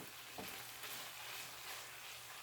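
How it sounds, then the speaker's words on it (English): Sloppy joe mixture with whole grain mustard sizzling and being stirred in a pan, a soft continuous frying hiss with faint scraping, quiet and close, with no talking. "Get that all stirred in together"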